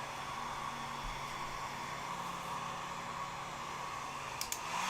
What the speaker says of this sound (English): I'm going to take the hairdryer to this and hit this up, okay?